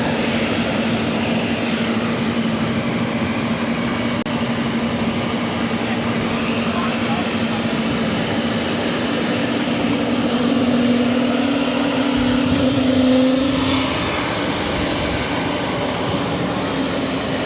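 An Airbus A320neo-family airliner at Boston Logan roars steadily nearby with a sustained drone and a rising whine near the end, while people talk over it.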